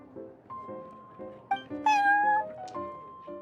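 Prince the cat from Genshin Impact gives a few close, clear meows, short chirps building to a longer drawn-out mew near the middle, over quiet background music.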